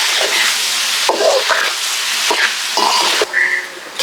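Flattened rice pulao ingredients stirred with spices in a pan, giving a loud sizzling hiss broken by several sharp scraping and stirring strokes across the whole stretch.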